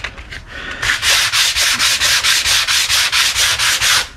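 A fiberglass boat rudder is hand-sanded with 80 grit sandpaper, loud close strokes in a steady rhythm of about a dozen even back-and-forth rasps with no talking.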